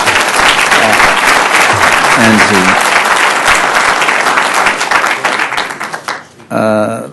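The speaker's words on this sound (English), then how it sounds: "I think that deserves a round of applause for the council" A large audience at a mayor's State of the City address breaks into loud, sustained applause that gradually fades out, after which a voice begins speaking at the end.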